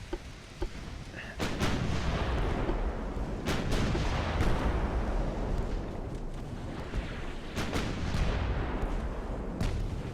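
Warship secondary guns firing in the naval game Ultimate Admiral: Dreadnoughts, pre-dreadnought British versus German battle: a dense, continuous rumbling barrage with sharper booming reports scattered throughout, loud and sustained.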